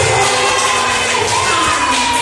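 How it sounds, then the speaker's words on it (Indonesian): A classroom of students erupts in loud, dense cheering and shouting that fills the whole stretch continuously without letting up. "tepuk tangan dulu buat Ayus"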